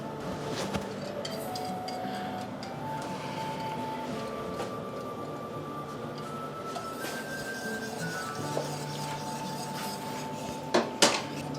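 A whisk scrapes and clinks against a metal pot of hot chocolate over low heat, with continuous rattling strokes and occasional sharper metallic knocks near the end.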